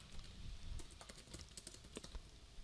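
Quick, uneven keystrokes patter on a computer keyboard, close and fairly quiet, forming a steady burst of typing with no voices over it.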